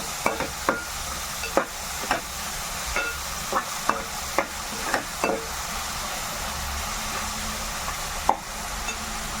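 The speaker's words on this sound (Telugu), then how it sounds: "కొంచెం ఉప్పు వేసుకొని ముక్కలు పట్టేలాగా కలుపుకోవాలి" Tomato pieces with salt sizzle in a pan for a dried prawn tomato curry, with a steady frying hiss broken by regular sharp taps and scrapes of a stirring spoon against the pan.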